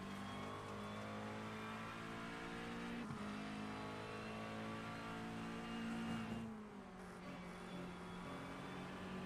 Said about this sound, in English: You could almost feel and hear the understeer on these cars as they're going through those high-speed corners.